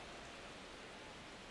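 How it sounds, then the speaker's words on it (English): Rain pours steadily during a rainy baseball game in MLB The Show 26, heard as a dense, even hiss of falling water with no gaps, faint and continuous. "This rain is not letting up."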